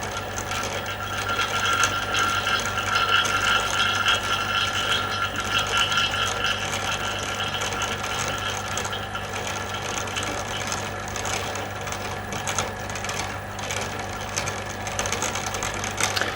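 Vacuum pump running steadily while evacuating a laboratory flask, a constant mechanical hum and rattle with a rhythmic chug, close and unbroken throughout.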